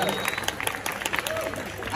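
An audience at an indoor zombie-themed event applauds, sharp scattered claps overlapping into a lively patter, with a voice speaking over it and occasional thin tones running through.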